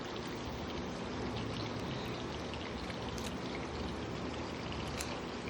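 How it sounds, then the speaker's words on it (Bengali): Rain pours steadily outside, a dense continuous hiss with scattered drops, moderately loud and unbroken throughout. "বাইরে এখনও বৃষ্টি হয়ে যাচ্ছে, সারা দিনই মনে হচ্ছে আজকে বৃষ্টি হবে"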